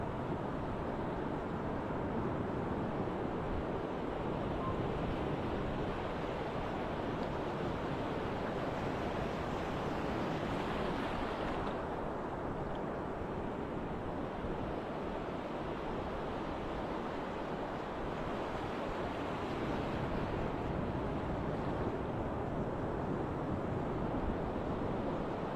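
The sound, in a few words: sea waves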